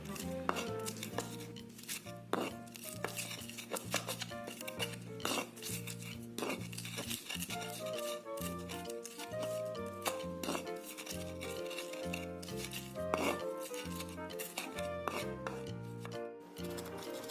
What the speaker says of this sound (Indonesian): Kemudian ulek bumbu.